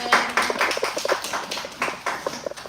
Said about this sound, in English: Please let's applaud them.